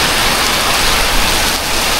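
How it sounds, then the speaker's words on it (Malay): Heavy tropical rain pours down steadily in Kota Bharu, roaring as a loud, dense, continuous hiss with no pauses. It is heard by someone riding an old scooter around town. "Hujan lebat."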